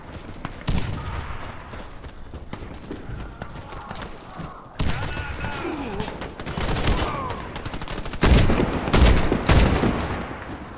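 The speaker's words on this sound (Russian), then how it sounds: "Осторожно! Граната, граната пошла! Кидаю гранату!" In the online shooter Warface, grenade explosions and sustained automatic gunfire sound loud and close. Sharp bursts and heavy blasts, including booming impacts near the end, come over shouted voices.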